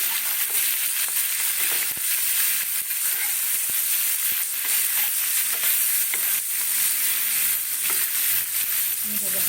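Shrimp frying in hot oil in a home kitchen, giving a steady, dense sizzle that runs unbroken throughout, with occasional small pops and spatters close by and no voices.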